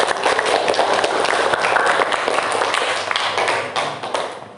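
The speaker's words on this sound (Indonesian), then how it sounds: "Beri tepuk tangan ya." A classroom audience claps after a group presentation in a teacher-training session, a dense burst of many hands lasting several seconds before tapering off at the end, no voices.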